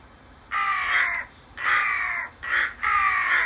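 A crow caws four times in a steady rhythm, each call harsh, loud and close, with short gaps between and near silence around them.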